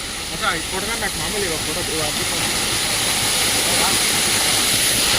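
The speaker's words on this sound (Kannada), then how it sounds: "ಮಳೆ ಮಳೆ ಫುಲ್ಲು ಮಳೆ" Loud, unbroken roar of heavy monsoon rain at Charmadi Ghat fills the scene, with voices speaking briefly over it at the start before the downpour dominates.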